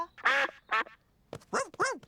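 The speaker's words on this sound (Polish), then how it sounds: "Przepraszam, pani kaczko." A cartoon duck in a Peppa Pig episode quacks several times nearby, loud nasal calls in two short bursts with a brief pause between them.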